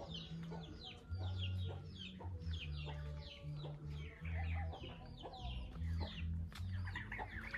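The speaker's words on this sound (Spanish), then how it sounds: "Tiene mucha crianza de pavo." Farm fowl including turkeys cluck and chatter continuously at a rural house, with many overlapping calls, a steady low hum underneath and brief faint voices nearby.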